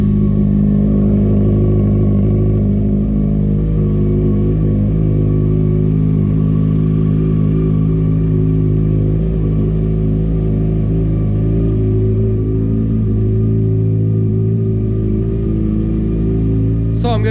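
A Yamaha FZ6R motorcycle idles and revs with a loud, steady engine drone that holds close and constant throughout, with people talking over it.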